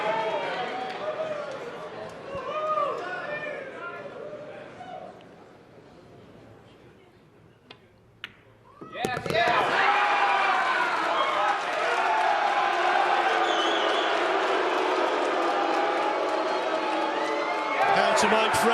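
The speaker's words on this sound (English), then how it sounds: "That got the crowd excited." A crowd at the 2022 Mosconi Cup pool match, Team USA against Team Europe, erupts into loud sustained cheering, whooping and applause after a quieter stretch where a commentator's voice is heard, with the roar holding steady to the end.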